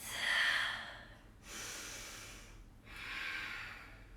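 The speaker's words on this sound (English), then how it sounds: "Start to breathe." Slow audible breaths during a yoga flow in a lunge, three long airy inhales and exhales, close and soft with no talking.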